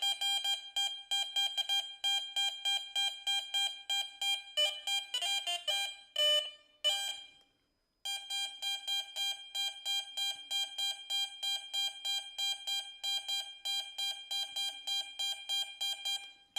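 A Garrett Vortex metal detector passed over a quarter gives a loud, steady run of repeating electronic beep tones, with a brief warbling change midway and a short gap before the pulsing resumes.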